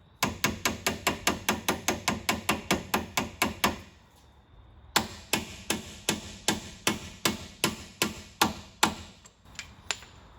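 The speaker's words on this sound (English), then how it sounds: "you can just take a hammer and just kind of" A hammer taps an axle seal into a GM 10-bolt posi differential in a garage: a rapid, even series of sharp metallic knocks, a pause of about a second, then another steady run of blows slowing at the end, close and clear.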